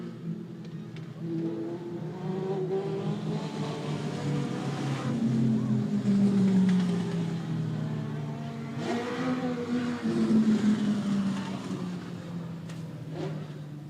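Legend cars in a heat race on a speedway oval, their engines droning loud and close in a steady roar that swells as the pack passes, rising and falling with throttle, with no talk over it.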